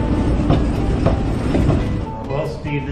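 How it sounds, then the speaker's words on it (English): A tourist train rolls past in Santiago, its wheels clattering in a rhythmic clickety-clack with a low rumble, loud and near for the whole stretch. "Tourist train."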